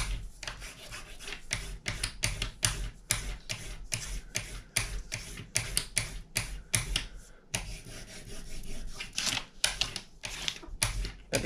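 Paper crinkles and rasps under a paperless yellow-green crayon colored on its side, giving quick, irregular scratchy strokes in bursts, fairly faint and close, without voices.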